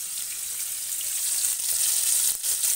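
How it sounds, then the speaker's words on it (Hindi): Fish frying in hot mustard oil in a home kitchen, a steady hissing sizzle that holds at an even level for a few seconds with no talk. "बाकी की यहाँ पे फ्राई हो रही हैं।"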